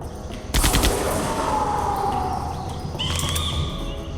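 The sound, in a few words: gunfire in Jurassic Park The Game video game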